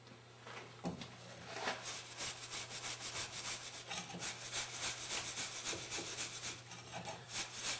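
Scuff pad scrubbing a corroded part from a Meyer E-60 snowplow pump: a steady run of close, gritty rubbing strokes in a quick back-and-forth rhythm over a low background hum.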